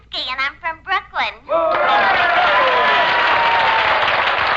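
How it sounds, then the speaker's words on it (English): Studio audience applause on a radio show, a dense burst of clapping that swells in and holds steady for about three seconds, preceded by a voice speaking. "I fail to see why the location of birth should be met with applause."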